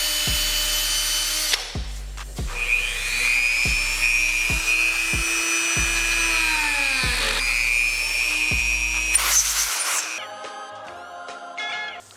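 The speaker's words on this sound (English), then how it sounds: "I'm going to be using 150 grit on this whole thing, sanding it down, making it even smoother" Power sander working over a wood piece with 150 grit sandpaper, a loud steady whine with repeated thumps and pauses as it shifts across the surface, up close with no talk.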